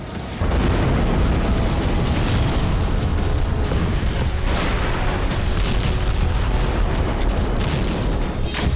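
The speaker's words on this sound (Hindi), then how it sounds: "ईरान पर इजरायल का मिसाइल आघात।" A missile strike sound effect fills the stretch with a loud, sustained roaring rumble of explosions, dense, booming and continuous from start to finish, with no voices over it.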